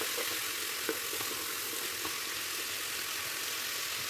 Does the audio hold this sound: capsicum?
yes